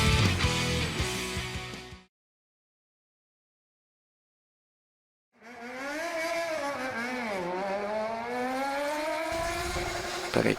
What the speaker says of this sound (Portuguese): Peraí que passou uma moto aqui.